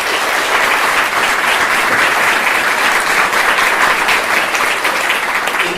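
Loud, sustained audience applause fills a town hall gathering, a thick unbroken roar of many clapping hands close to the mic with no talk above it.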